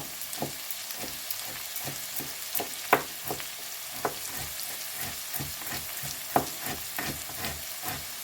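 Onions fry and caramelize in a pan with a steady soft sizzle, broken by irregular clicks and scrapes of stirring, close and moderately quiet, no voices.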